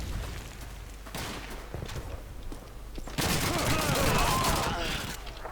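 Gunfire in the Call of Duty 2 video game: scattered shots give way to a dense, loud volley of rapid fire in the second half, with a voice faintly heard.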